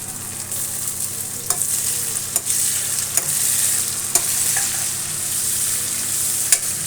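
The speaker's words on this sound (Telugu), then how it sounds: "పుదీనా పచ్చివాసన పోయింది కదా చూడండి ఫ్రెండ్స్ ఇది పచ్చివాసన పోయింది ఇప్పుడు టమాటా వేస్తా ఉన్నాము" Tomatoes and mint frying together in a pan for an eggplant masala, with a steady bright sizzle and sharp periodic clicks of a spoon stirring against the pan, close and without speech.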